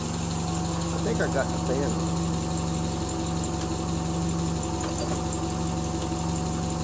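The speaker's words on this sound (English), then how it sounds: "You can hear it just here, the lifter clatter." Triumph Spitfire engine idling with a light lifter clatter, a steady close rumble with fine ticking under it while someone speaks briefly.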